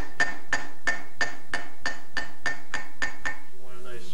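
A silversmith strikes a silver bowl with a planishing hammer: about ten bright, ringing metallic blows in a steady, even rhythm, close and loud, then a faint clatter.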